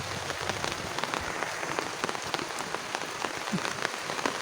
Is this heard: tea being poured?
no